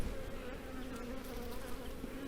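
Honey bees crawl over honey-filled hive frames during a late-autumn brood check, their steady droning buzz close and continuous throughout.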